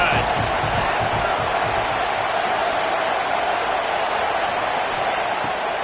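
Stadium crowd in the College Football 26 video game, a dense continuous roar under a commentator's voice.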